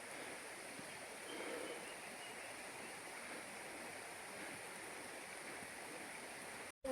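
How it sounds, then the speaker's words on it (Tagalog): Steady broadband rush of a waterfall and fast-flowing stream water in the forest at Tibiao, Antique, even and unbroken throughout, heard from a moderate distance with no talking. "Parang nakikita ko na ang waterfalls."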